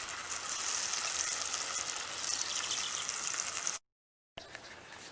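Oil heating in a pan set over an outdoor charcoal grill, a bright continuous sizzle that cuts to silence for a moment near the end before resuming.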